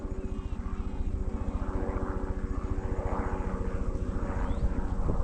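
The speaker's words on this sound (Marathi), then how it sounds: "हेलिकॉप्टर चाललंय" A helicopter passing overhead above a village farm field, its rotor giving a steady loud rhythmic chop throughout, close and dominant with no talking.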